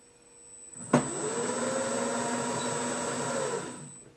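A BMW E36 converted to electric drive, its motor spinning up under a little throttle: a sudden click, then a steady whirring hum with a rising and falling tone and a thin high whine, close and alone.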